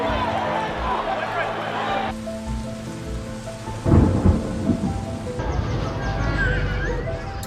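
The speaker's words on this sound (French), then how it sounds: "des sons de pluie, des sons de vent" Steady rain falling on surfaces with thunder rumbling through it, a deeper roll rising near the middle before the downpour carries on, close and full.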